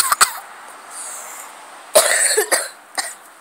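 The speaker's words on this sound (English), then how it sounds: "Nobody needs to see me while I cough." Several sharp coughs, a quick pair at the start and a louder burst near the end, close to the mic with a faint hiss between them.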